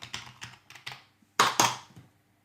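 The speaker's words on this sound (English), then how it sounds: "I just have to type sudo" A sudo password typed on a computer keyboard: a quick run of light keystrokes, then two louder, firmer presses. Close and quiet, with no talking.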